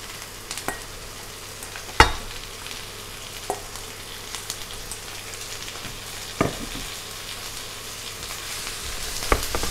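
Softened, already-cooked cabbage stir-frying in a pan on a stove, with a steady low sizzle and a few sharp clicks and scrapes of stirring scattered through, close and fairly quiet, with no talking.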